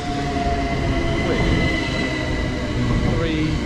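A Class 375 electric multiple unit pulling into Staplehurst station in Kent, with a loud, continuous rumble and hum of wheels on rails and a brief squeal as it slows, heard close from the platform.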